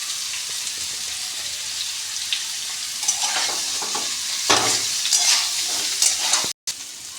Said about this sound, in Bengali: আমি ততক্ষণ এঁচোড়টাকে ভালো করে ভাজতে থাকছি